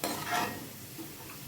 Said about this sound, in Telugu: కాకరకాయ ముక్కలు వేసినప్పుడు ఇట్లా సౌండ్ రావాలి